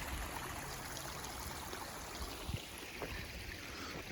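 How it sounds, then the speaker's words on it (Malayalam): A waterfall in Lorimer Park sends up a steady, faint wash of flowing water, with a soft continuous hiss and no voices. "ഇതാണ് വെള്ളച്ചാട്ടം."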